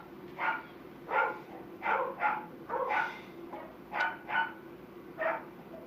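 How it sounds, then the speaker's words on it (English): Dogs bark repeatedly from upstairs in a house, giving about nine muffled, mid-distance barks in an uneven rhythm over a low indoor hum. "somebody needs to let the dogs out, too, because they're going off upstairs"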